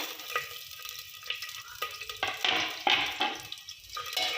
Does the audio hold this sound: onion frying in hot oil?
yes